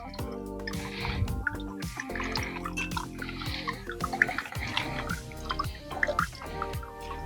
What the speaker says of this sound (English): I'm going to squeeze out all the juice that I can get